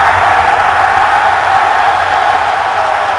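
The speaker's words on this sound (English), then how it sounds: "the crowd loves it" A football stadium crowd at the 2011 AFC Championship game between the Ravens and Patriots roars in a steady, dense wash of cheering that holds loud and unbroken throughout.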